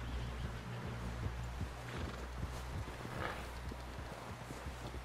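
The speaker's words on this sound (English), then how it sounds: "Someone help John down off this horse." A horse neighs and its hooves clop in a Red Dead Redemption western town scene, the whinny rising clearly over a steady low rumble of game ambience, with hoof beats scattered underneath.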